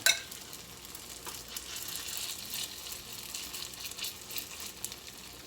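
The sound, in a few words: hot water cornbread patties frying in oil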